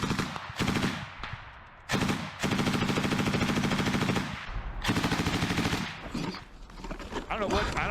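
Frontline combat gunfire: rapid bursts of automatic weapon fire, loud and sustained across several long volleys with brief pauses between them, reverberant and close.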